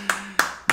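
Three sharp, close hand claps land at a slow, even pace, each one crisp and alone against a low steady hum.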